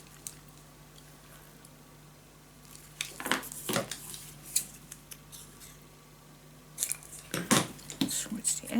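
Scissors cut paper for a keepsake treehouse box craft, with quiet snips and rustles in two clusters separated by stillness, close by over a faint steady hum and no talking.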